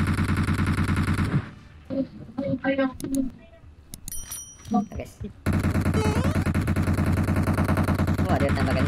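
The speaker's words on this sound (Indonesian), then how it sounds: "Oh, ada yang tembakan." Automatic gunfire in the mobile battle-royale game PUBG Mobile rattles in two long, dense bursts, with a stretch of scattered quieter shots and clicks between them.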